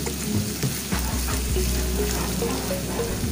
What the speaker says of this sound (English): I'll just fry this plain because I don't want the soup to be salty